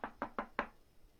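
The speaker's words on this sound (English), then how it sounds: "I heard a rapid-fire knocking at the door." Four quick knocks land on a door in a fast, even rhythm, close and crisp, each a short hollow thud, then quiet.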